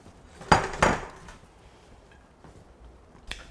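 A utensil stirring pollock roe into pasta in a pan with the heat off: two sharp metallic clanks close together, then softer scrapes and a final light knock.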